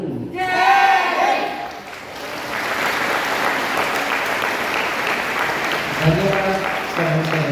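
Loud audience applause at a school inter-house patriotic play competition, a sustained burst of clapping from a large crowd lasting several seconds, with a voice speaking before and as it fades.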